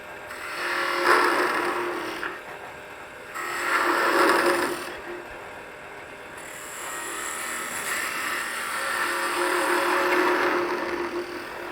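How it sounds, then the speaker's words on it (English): A wood lathe spins a piece of wood in a woodshop, steady motor hum beneath repeated swelling bursts of scraping and rubbing as a tool bites into the spinning workpiece, moderately near. "So we'll get the lathe up to speed here"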